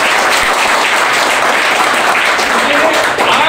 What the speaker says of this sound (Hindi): एक बार अपने लिए जोरदार ताली बजा रहे हैं।